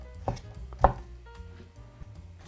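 A knife chops onion for a spicy bean sprout dish, sliced about 1 cm thick. There are a few distinct, uneven thuds against a board, close and fairly loud, with quiet pauses between them and no voices.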